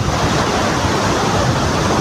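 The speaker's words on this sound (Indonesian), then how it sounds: "Kita pelan-pelan tapi pasti ya mendekati air terjun" The Sanghyang Taraje waterfall in Pamulihan, Garut, roars as a dense, steady rush of falling water, loud and close, with no voices.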